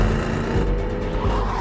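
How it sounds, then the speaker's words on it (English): A car engine roars with tire noise during a chase along a forest road, a loud, continuous, close rumble with a rough grinding quality and no voices. "While running through the trees, Jamie heard a car engine."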